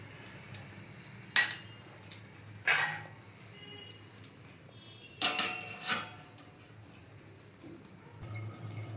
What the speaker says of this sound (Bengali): এবার আমি 10 মিনিটের জন্য ঢাকনা দিয়ে রেখে দিচ্ছি